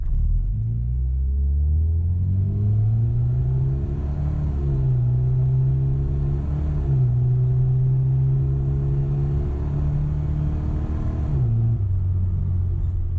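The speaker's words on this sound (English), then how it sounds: "Maybe we do a bit of an acceleration test here. You can hear the exhaust note as well" A classic Mini's exhaust growls and rises in pitch as it accelerates through several gears, steady and close, with no talking.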